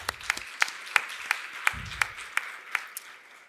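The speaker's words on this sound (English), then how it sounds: "I want to applaud the men in this room for coming." Sparse, faint clapping in a conference room at a women's building-industry summit, with single sharp claps landing in a slow, roughly even rhythm about three per second against quiet background noise.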